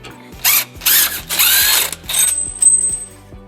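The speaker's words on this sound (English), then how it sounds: "we're going to use a 12mm socket to remove these 2 bolts from the hanger" A ratchet with a 12mm socket removes two bolts from a trailer hitch hanger on a 2005 Nissan Murano, giving several bursts of close, loud clicking and whirring with short pauses between, then a faint high whine.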